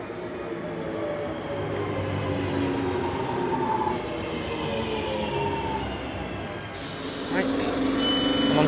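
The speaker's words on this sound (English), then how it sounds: "And here comes our train." A train pulls into a station platform on the Glossop line, its steady heavy rumble and rolling noise loud and close throughout, with a burst of air-brake hiss near the end.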